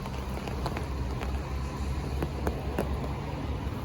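Heavy rain hisses evenly throughout at a large lake in strong southwest winds, with scattered faint drips and taps over a low background rumble, no voices.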